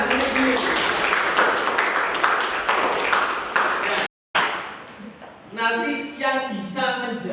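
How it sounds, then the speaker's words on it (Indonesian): Students in a junior high classroom applaud, a burst of scattered clapping for about four seconds, then a brief cut and a teacher's voice talking over faint room noise. "tepuk tangan"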